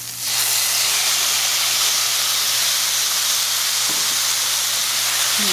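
Garlic and tomatoes sizzle loudly and steadily in a hot pan for Mexican red rice, a dense continuous hiss close by, with no talking over it.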